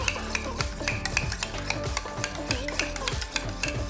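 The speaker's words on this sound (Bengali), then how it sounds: "টক দইটাকে আমি একটুখানি ফেটিয়ে নিচ্ছি।" Sour yogurt being whisked in a bowl for Nepali chukauni: rapid, rhythmic clinks and scrapes of a utensil against the bowl, steady and close throughout with no voice.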